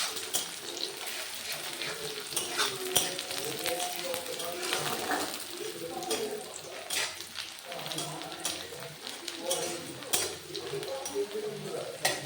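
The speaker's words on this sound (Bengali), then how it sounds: "পাকা লঙ্কাগুলো দিয়ে দিলাম তেলের মধ্যে।" Ripe chillies crackle and sizzle as they fry in hot oil, a steady dense spatter with faint stirring; talk is heard over the frying.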